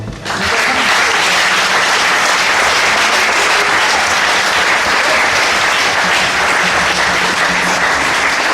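A church congregation bursts into loud, sustained applause acclaiming the Lord, dense clapping filling the room steadily throughout with no break.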